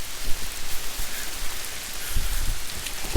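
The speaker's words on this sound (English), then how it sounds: "we're getting rained out here" Heavy rain pours down outdoors, a dense, steady hiss of drops hitting surfaces close by, loud and continuous with occasional heavier spatters and no talking.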